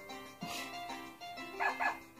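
Small puppies in the video game Harvest Moon: Another Wonderful Life let out a few high, yappy barks and whimpers, quiet and close, in short bursts near the end.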